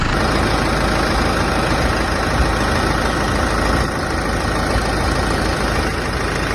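A heavy tractor engine idles steadily and loudly throughout, a constant low rumble with no voices; the tractor is leaking hydraulic fluid.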